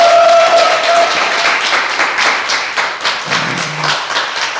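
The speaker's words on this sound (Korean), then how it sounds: "고민정 후보 힘내라고 응원의 박수도 해주시면 좋겠습니다" Audience at a Korean election broadcast applauding to cheer on candidate Ko Min-jung, a dense, loud run of clapping that continues steadily for several seconds, with no voices heard over it.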